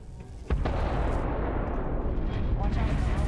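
A detonation in the game Starfield, heard as a sudden loud boom that gives way to a sustained heavy rumble lasting several seconds.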